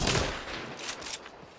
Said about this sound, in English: He's using a crossbow with shotgun bolts.